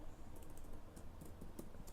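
Close, steady typing on a computer keyboard, a quick uneven patter of key taps with a few firmer strokes toward the end.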